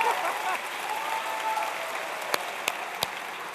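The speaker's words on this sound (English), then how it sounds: "well, yeah, you can applaud that." Audience applause at a university lecture, fairly steady and moderately loud throughout, with a few sharp isolated claps near the end as it carries on.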